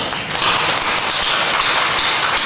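A church congregation at a Sunday service claps for the bus driver, a dense, steady patter of many hands that continues evenly throughout.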